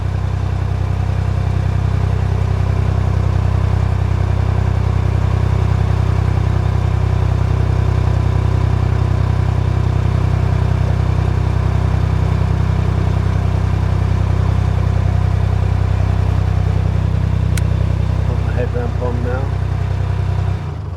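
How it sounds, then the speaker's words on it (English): A narrowboat engine runs steadily inside a canal tunnel, a loud continuous low throb with enclosed, droning reverberation, holding even for the whole stretch with a faint brief rattle near the end. "So there is a boat in the tunnel."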